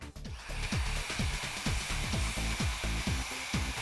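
Fine-grit sandpaper wet-sands a hazy, yellowed car headlight in quick regular back-and-forth strokes, close and fairly loud, with a steady rasping rhythm about three strokes per second.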